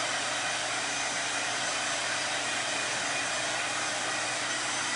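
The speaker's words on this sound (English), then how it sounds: "Alright, so we're just going to dry this." A corded electric heat tool blows a steady, loud airy whoosh throughout while drying a card-crafting transfer, a constant hiss with no breaks.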